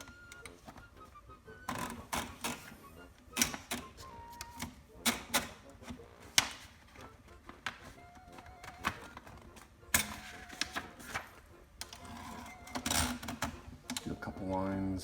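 A Brother Signature 440T manual typewriter types on two sheets of paper set on a wobbly table, with irregular rapid keystrikes, clacks and occasional carriage sounds up close, and a voice talking now and then.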